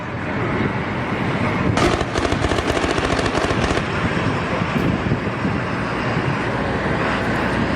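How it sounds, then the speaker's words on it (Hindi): Gunfire in Aleppo, Syria crackles in rapid dense bursts, loud and continuous over a heavy rumbling roar, with a sharper flurry of shots partway through. "सरकारी इमारतों पर बड़े हमले लगातार जारी हैं, एक के बाद एक फायरिंग हो रही है।"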